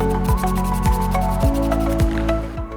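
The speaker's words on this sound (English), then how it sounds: "Again we spray away from the body" An aerosol can sprays Bandit Red paint onto a guitar built into a toy gun in a steady, close hiss, with a few repeated rubbing or rattling strokes underneath.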